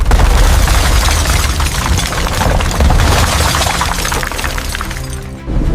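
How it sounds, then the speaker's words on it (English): Loud, sustained grinding and crunching of metal being crushed, with sharp shattering cracks over a dense roar before a brief drop near the end. "The sound of metal being heavily crushed."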